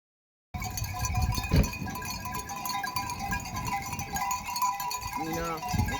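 Goats bleat now and then against steady outdoor wind noise, with a few wavering cries standing out near the end.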